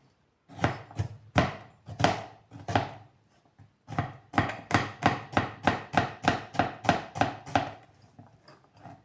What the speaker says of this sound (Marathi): काकडी बघा अशी चिरून घेतलेली आहे.